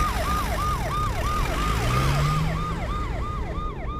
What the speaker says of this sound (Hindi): एम्बुलेंस फौरन वहां से हॉस्पिटल के लिए निकल जाती है